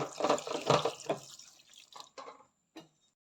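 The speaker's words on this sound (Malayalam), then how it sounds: "ഒരു ഗ്ലാസ് വെള്ളം ചേർക്കാം" Water runs and splashes in short pulses into a cooking pot, about a glass's worth added to a sardine and tapioca dish, then trails off into a few drips and a final small splash.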